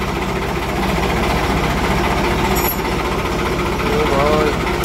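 A tractor engine, hitched to a ripper and trolley, runs in a loud, steady, rattling drone with a heavy low rumble that holds for the whole stretch. Faint voices may sit beneath the engine noise.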